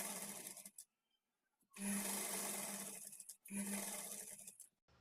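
A sewing machine stitches a fall onto the edge of a saree in two steady, close bursts, with a short pause between them and no voices.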